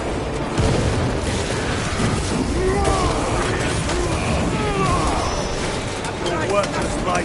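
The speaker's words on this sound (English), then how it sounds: "Deploying frag grenade!" A frag grenade blast in Warhammer 40K Space Marine 2 booms amid a dense, continuous roar of battle noise, loud and close, with voices shouting faintly in the mix.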